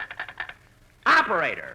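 A telephone sound effect in an old-time radio show: a quick series of short rings or clicks, a pause, and then a voice cutting in loudly.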